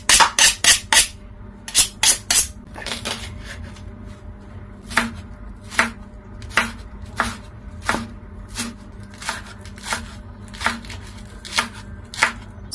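Green onions are chopped with a knife on a board, giving crisp, close knocks, first in quick bursts of three or four and then in slower, evenly spaced single strokes, with quiet kitchen background between them.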